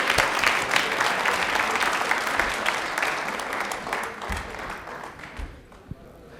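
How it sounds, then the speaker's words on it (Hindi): A studio audience at a televised quiz show bursts into sustained clapping. The applause is loud and dense, then thins and fades toward the end, with a few isolated claps left. "चलो तो तालियां हो जाए जोरदार वाली"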